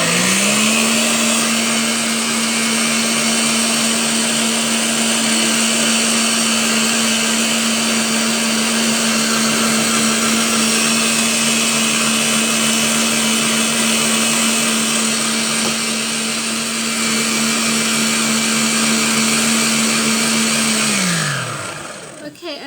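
Electric whisk whipping meringue for a gluten-free stacked cake, a loud steady motor whine with constant pitch and whirring beaters running continuously for about twenty seconds before winding down and stopping at the end.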